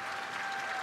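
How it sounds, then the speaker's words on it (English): A conference audience applauds after a talk at a software engineering event, a dense, steady clatter of many hands clapping at moderate distance across the whole brief moment. "Thanks for the applause."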